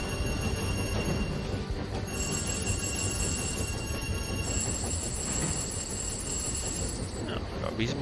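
A train runs in the video game Tiny Rails, a continuous dense rolling rumble with faint wheel noise that carries steadily throughout.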